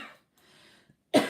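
A single short, rough cough sounds up close at the end after a quiet breathy pause.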